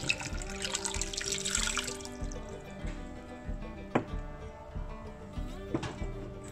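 Water pours and splashes steadily into a tumbler for a couple of seconds, then trickles and drips with small clinks, close and moderately quiet.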